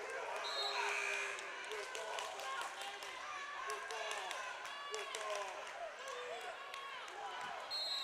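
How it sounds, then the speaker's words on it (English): Playoff high school girls' basketball crowd in a gym, a dense roar of shouting and cheering with squeaking sneakers and bouncing ball throughout, and announcer talk mixed in. "Just letting you listen in to the crowd noise there for a second."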